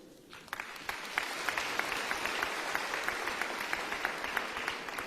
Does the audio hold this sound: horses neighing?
no